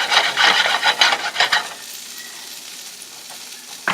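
An Italian dish frying in a pan gives a loud, close hiss while it is stirred in rhythmic scraping strokes, then the stirring stops and a steadier, quieter sizzle carries on alone, with a faint knock at the end.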